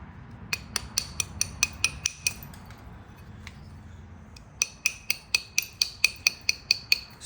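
Sharp, bright ticking taps as a bopper bevels the edge of a Flint River chert point during flint-knapping, coming in quick bursts of close strikes with a pause in the middle.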